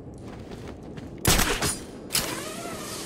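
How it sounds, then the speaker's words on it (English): Gunfire from a bell tower in Batman Arkham City rings out as two sharp, loud reports over a quiet ambient bed, the second trailing off with a ringing echo. "The gunshot came from the bell tower."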